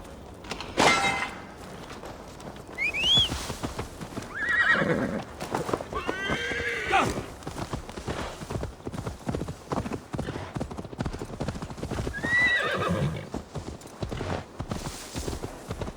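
Horse in Assassin's Creed Valhalla whinnying several times over steady clip-clopping hooves, with game ambience underneath and scattered quieter voices.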